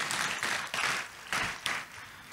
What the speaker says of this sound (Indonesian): Tepuk tangan sekali lagi buat Tuhan Yesus.